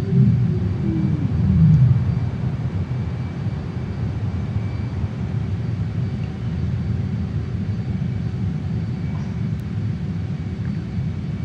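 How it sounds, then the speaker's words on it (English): Landing gear lowering on a JAS-39 Gripen in Microsoft Flight Simulator, a brief mechanical whir near the start over a steady, loud jet engine rumble that continues throughout. "Let's drop the gear."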